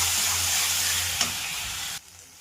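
Spice paste with Kashmiri chilli powder and turmeric stir-fried in a pan, a loud continuous close sizzle with a single scrape of stirring, cutting off abruptly near the end.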